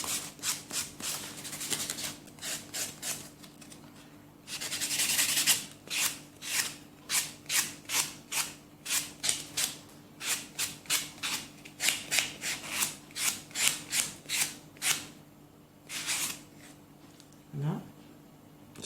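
A nail file buffs lightly across a fingernail during a semi-permanent polish prep, giving a quick series of soft, rhythmic rasping strokes, close and fairly steady, with a brief pause and a short burst of voice near the end.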